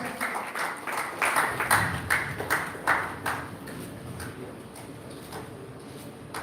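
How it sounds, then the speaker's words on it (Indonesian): Applause from an audience at the opening of a diving tour guide training event: a burst of scattered, moderately close clapping that swells and then thins out, over a faint background voice. "Ya, kita berikan aplaus."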